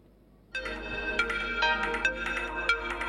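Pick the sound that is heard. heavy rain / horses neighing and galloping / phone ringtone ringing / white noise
phone ringtone ringing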